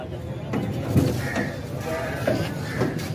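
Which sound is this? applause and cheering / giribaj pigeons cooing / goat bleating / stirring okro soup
goat bleating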